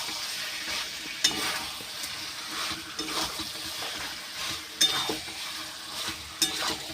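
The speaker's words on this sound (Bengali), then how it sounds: "ঢাকনা খুলে এইভাবে কষিয়ে নেব।" Chicken stir-frying in an open pan for Hyderabadi chicken kosha hisses steadily up close, with repeated scraping stirs and a few sharp utensil knocks against the pan.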